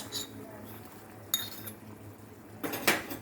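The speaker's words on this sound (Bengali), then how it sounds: "সবার আগে আমি দিয়ে দিচ্ছি গ্রিন পিস" Green peas being added to a pot of chicken brown stew, heard as a few metallic clinks and scrapes of a spoon against the pot over a low kitchen background.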